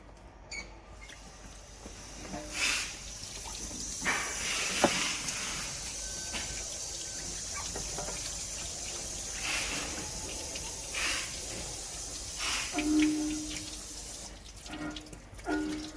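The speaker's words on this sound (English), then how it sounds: "So just hose it off again." Water sprays from a hose over a fireclay sink being rinsed after scrubbing with Bar Keeper's Friend, coming in faint, intermittent splashing bursts with quiet gaps between them.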